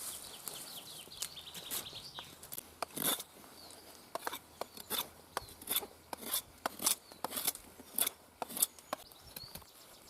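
An MK2 Tribute knife shaves a wooden stick for a bow drill, giving a run of short, crisp scraping strokes that fall in a fairly steady rhythm. The strokes are close, each one brief, with faint birdsong behind them.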